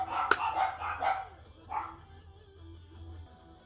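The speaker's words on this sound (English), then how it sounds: "when my other dog, Carla, starts barking, he starts barking too" A yappy little dog barking in a home, a run of quick sharp yaps followed by a lone bark and quieter trailing sounds, moderately close over a low background hum.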